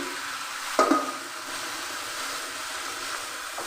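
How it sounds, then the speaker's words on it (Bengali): Boiled brinjal and fried egg stirred in a frying pan, with a soft continuous sizzle and a single sharp clink of the utensil against the pan near the start, close and without voices. "আমি দু মিনিট লাগাতার এভাবে নেড়ে নেড়ে ভেজে নেব"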